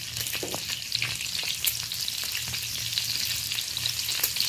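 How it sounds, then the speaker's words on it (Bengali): Eggs fry in a pan with turmeric in a steady, crackling sizzle, and a spatula scrapes and stirs through them in light, irregular strokes close at hand, with no talking. "হালকাভাবে নেড়ে নিচ্ছি ডিমগুলো"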